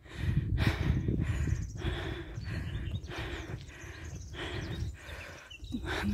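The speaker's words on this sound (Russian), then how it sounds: "Сейчас не могу говорить, потому что занята дыханием." Heavy, rhythmic breathing from a woman after walking uphill toward a castle in Assisi, each deep inhale and exhale close and loud, with footsteps and no speech.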